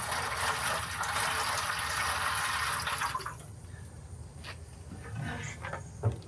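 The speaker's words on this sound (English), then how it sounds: "I may put a little more water in that tray down below." Water poured into the water tray of a backyard offset smoker, a steady splashing stream for about three seconds, then quiet drips and small knocks.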